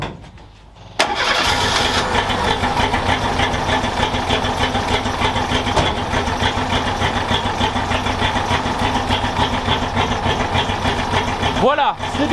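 A Renault 4L with its original engine and carburettors cranks briefly and catches, then settles into a steady, loud, close idle with a busy mechanical chatter that runs until a short rising sweep near the end.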